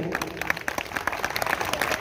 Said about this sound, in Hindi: तालियां तो बजाए